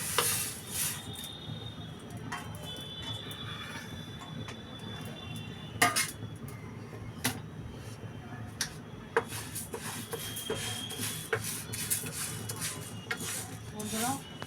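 Moong dal dry-roasting in a hot pan, grainy rustling and scraping as the lentils are stirred, with sharp clinks of utensil on metal recurring throughout at close range.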